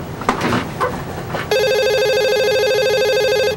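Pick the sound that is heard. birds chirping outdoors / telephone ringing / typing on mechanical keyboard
telephone ringing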